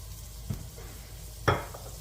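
Ginger, garlic and hot sauce stir-fry in a hot oiled pan for a spicy broccoli dish, giving a low steady sizzle with two sharp stirring scrapes, the second louder.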